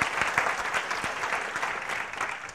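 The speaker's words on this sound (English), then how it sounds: "A warm round of applause" An audience at a Ghana coding and robotics event bursts into a warm round of applause, dense, fairly distant clapping that holds steady before easing slightly toward the end.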